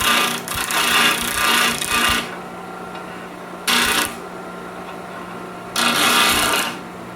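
Brass stock being machined for a Yildiz shotgun recoil reduction modification, heard as three bursts of harsh, raspy cutting: a long one at the start, then two shorter ones separated by quieter workshop background.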